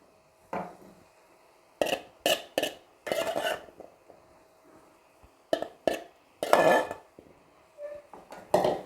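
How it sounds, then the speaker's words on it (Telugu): Boiled prawns, pre-cooked with turmeric and salt, are tipped into a pan of potato and brinjal curry, giving a series of short clattering knocks and scrapes of utensil against the pan with quiet pauses between, and no talk. "తర్వాత రొయ్యలు వేసుకుందామండి"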